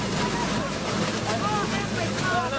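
An extreme storm sends a continuous, loud roar of wind and rushing weather noise, steady and unbroken throughout.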